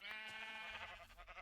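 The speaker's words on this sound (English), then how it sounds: "Come on, sheep. Give me just a little bit more wool." Sheep bleating in the Minecraft video game, a wavering, harmonic bleat that fills the whole moment, with a second softer bleat pulsing toward the end.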